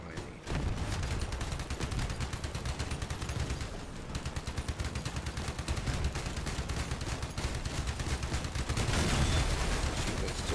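Rapid machine gun fire in a video game rattles in long dense bursts after a brief quiet start, with a short pause near the middle before the shooting resumes, loud and close.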